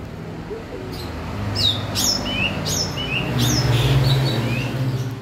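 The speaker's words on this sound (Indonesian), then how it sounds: "Nah, itu burungnya itu masih bunyi itu." Several short, bright chirps and whistled phrases from a starling ring out at intervals over a steady low hum of background noise.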